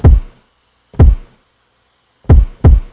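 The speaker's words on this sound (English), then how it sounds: "So it's both of those kicks being triggered at the same time." Two kick drums layered and triggered together land as four heavy, thumping hits: two spaced about a second apart, then a quick pair near the end, each punchy and close with a short decaying tail and silence between.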